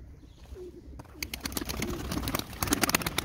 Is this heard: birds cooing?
yes